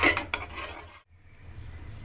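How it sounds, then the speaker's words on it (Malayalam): A spoon scrapes and stirs in a pot of oats and milk heating toward a boil: two quick metallic clinks and rasping strokes, then a soft low simmering hiss, close and fairly quiet. "നമുക്ക് തിളയ്ക്കുന്ന വരെ ഇളക്കിക്കൊണ്ടിരിക്കണം."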